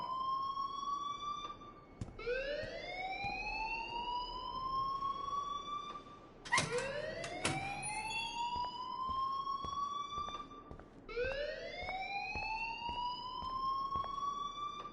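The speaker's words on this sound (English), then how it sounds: "please turn off that alarm since that's your job" A fire alarm in the game Life Is Strange, sounding in repeated rising sweeps, three long whoops each climbing then holding, steady and moderately loud with short gaps between cycles.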